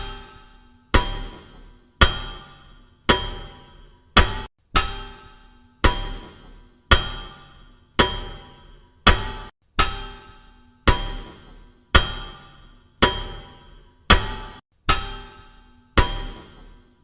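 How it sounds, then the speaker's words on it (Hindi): Loud, steady hammer blows ring out about once a second, some sixteen metallic strikes in a row, each decaying before the next, with no talking. "इस झोले को जरा आराम पर रखकर जोर से हथौड़ा तो चलाओ"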